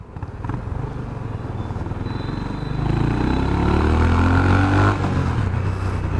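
A Honda CB350 RS motorcycle exhaust revs up to high RPM, building from a burbling idle to a loud, sustained roar close by before easing off at the end.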